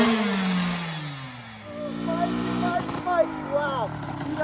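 Honda CR 125 two-stroke dirt bike engine revving hard with a stuck throttle, its pitch sliding down and then surging in a buzzing whine, with people talking excitedly over it.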